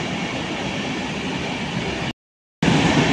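A Saraighat Express passenger train running from Howrah to Guwahati gives a steady, loud broadband rumble of rolling wagons, broken by a half-second gap of silence before the noise resumes.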